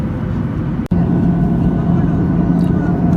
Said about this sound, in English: we're now making our descent into Stockholm Arlanda Airport